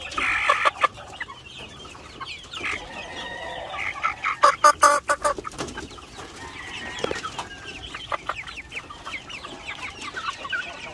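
A flock of white barred rock chickens, three-quarters barred rock and one-quarter white leghorn, clucks busily and repeatedly close by, with dense overlapping bursts of clucking throughout.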